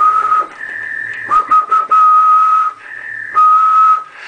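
A man whistles steady sustained tones into a radio microphone on an SSB transceiver, with long held notes switching between two pitches, broken by brief pauses, loud and close, alone without speech.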